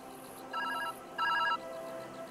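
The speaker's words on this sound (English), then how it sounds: "We have a phone?" A phone rings inside the video game ViewFinder, two short electronic trilling bursts close together over a steady background hum.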